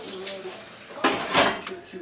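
Dishes being washed at a kitchen sink, with clinking and clattering of plates and utensils mixed with running water, a few clear clanks standing out.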